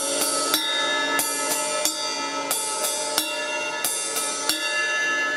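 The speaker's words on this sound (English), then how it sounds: "Love to play the bell as well." The bell of a drum-kit ride cymbal is pinged roughly ten times at a loose, uneven pace. Each clear metallic strike rings on over the last, played up close with nothing else heard.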